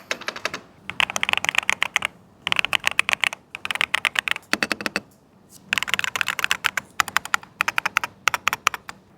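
Typing on an Epomaker Brick 87 mechanical keyboard comes in close, loud bursts of rapid clacking keystrokes separated by short pauses, with no voices.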